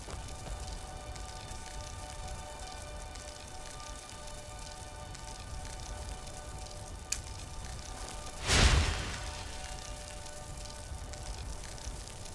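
Steady rain falls in a fantasy landscape in Skyrim Special Edition, a faint, even hiss of drops running throughout, interrupted by one short, louder crackling burst near the end.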